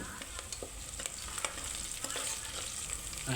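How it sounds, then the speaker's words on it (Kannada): Onions and green chillies fry in browning oil for egg pulao, a steady close sizzle with stirring strokes and scrapes ticking through it, with no voices. "ಈರುಳ್ಳಿ ಸ್ವಲ್ಪ ಕಂದು ಬಣ್ಣ ಬರೋದವರೆಗೂ ಒಂದು ಸ್ವಲ್ಪ ಫ್ರೈ ಮಾಡ್ಕೋರಿ"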